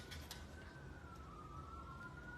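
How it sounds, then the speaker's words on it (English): An ambulance siren passes a house on a busy four-lane road, a faint distant wail sliding slowly in pitch under steady background noise. "there's an ambulance driving by my house right now"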